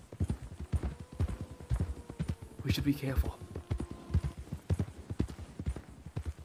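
Horse hooves clip-clopping in a steady walking rhythm in a knight roleplay, close and clear beneath soft spoken voices.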